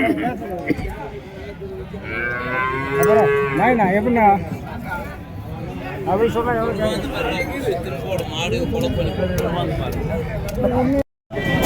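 Native bulls and calves at the Matrapalli native cattle market moo repeatedly, loud and close, over a steady crowd hubbub with people talking nearby.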